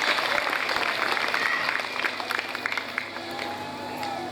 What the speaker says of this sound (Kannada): ಆ ಮಗುವಿಗೆ ಜೋರಾದ ಚಪ್ಪಾಳೆ ಇರಲಿ